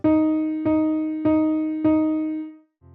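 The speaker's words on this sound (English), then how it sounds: "4 quarter notes in a measure sounds like this" Four evenly spaced quarter notes in one measure, same pitch on a plucked or struck tone, each ringing into the next, at a steady moderate tempo.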